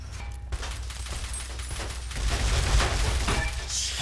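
Sustained rapid gunfire from a Fallout: New Vegas firefight, including an integrally suppressed 9x39mm gun, dense and continuous bursts that grow louder partway through, with impacts and clatter mixed in.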